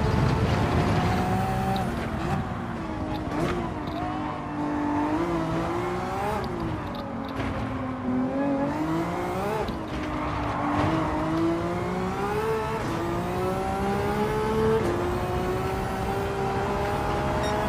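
A road car races in a hypercar parade event in Gran Turismo 7, its engine droning loud and continuous as it revs up and down through the gears, with rising and falling pitch sweeps over the full stretch.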